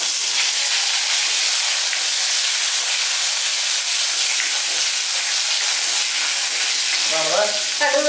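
Curry leaves dropped into hot oil for a Mexican mint chutney crackle and sizzle in a loud, continuous hiss close by, with a few clinks near the end.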